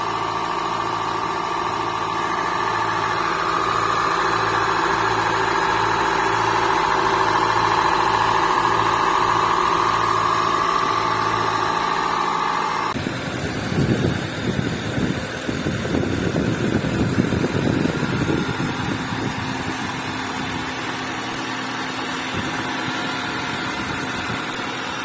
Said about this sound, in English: let's hear the engines idling one by one.